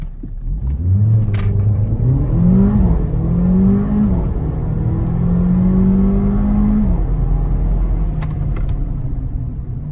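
A tuned Mercedes CLA45 AMG launches hard in sport mode on a 0-100 km/h run, its engine roaring loud and close as the revs climb through several gear changes, with steady road rumble underneath.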